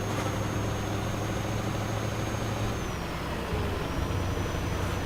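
A simulated truck engine in Euro Truck Simulator 2 drones at a steady low idle with a faint high whine, the note shifting slightly midway, continuous and moderately loud with no talk.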